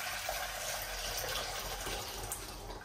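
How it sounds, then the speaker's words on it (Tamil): Hot water pours steadily into a cooking pot as soaked roasted lentils are readied for boiling in a home kitchen, a continuous close splashing gush with no talk. "இப்ப வந்து தண்ணியை வந்து இதுக்குள்ள ஊத்தி கொள்வோம்."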